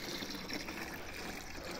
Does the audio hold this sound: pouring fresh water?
yes